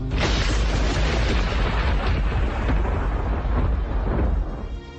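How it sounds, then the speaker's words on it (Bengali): A thunderclap sound effect for a drama story, a lightning strike landing nearby in light rain, comes as a loud, sustained rumbling boom that rolls on for several seconds before cutting off abruptly. "আচমকা বিদ্যুৎ ঝলকের সঙ্গে কাছাকাছি কোথাও বাজ পড়ল।"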